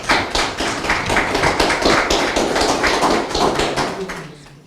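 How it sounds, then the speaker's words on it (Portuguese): Audience applause for award candidates at a national honors ceremony, brisk close clapping from a modest crowd with a rhythmic, fairly even pattern, fading out near the end. "Forte aplauso para os candidatos."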